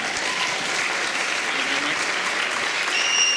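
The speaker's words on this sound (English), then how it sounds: "Big round of applause for these guys." Audience applause at a charity talent show on Prince Edward Island, steady dense clapping from a sizeable crowd throughout, fairly loud and continuous with no voices over it.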